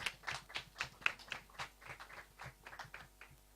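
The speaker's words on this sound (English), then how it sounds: "A round of applause, please." Light applause at a youth town hall, a handful of separate claps in an uneven rhythm, quiet and slightly distant in the room.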